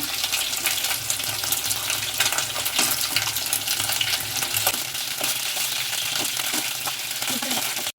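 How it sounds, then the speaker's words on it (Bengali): Steady, loud sizzling of chicken frying in a hot pan, with occasional stirring scrapes and no talking. "এখানে আরেক পিঠটা এইভাবে ভেজে নেব। চিকেনটা আমার ভাজা হয়ে গেছে"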